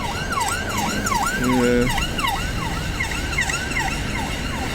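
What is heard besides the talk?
ambulance siren passing a roundabout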